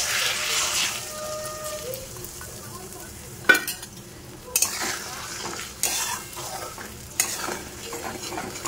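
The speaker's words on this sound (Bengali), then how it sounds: "দেবো এই ডিমটা এবার দিয়ে দেবো, দিয়ে ডিম ভুজিয়া করব" Beaten egg frying in a little oil in a wok for egg bhujia, a steady soft sizzle under sharp clinks and scrapes of a utensil stirring against the pan, with no voices.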